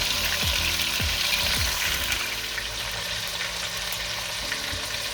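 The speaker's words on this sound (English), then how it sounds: "And the beef. And I'm just gonna give a mix. Make sure you leave it to sear nicely on all sides." Beef sears in a hot pan with a loud, constant sizzle, a few scraping stirs landing early on before the frying carries on undisturbed, close by and without voices.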